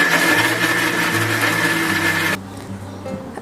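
A blender whirs loudly and steadily as it purees mango with milk and condensed milk, then stops abruptly, leaving a quiet room tone.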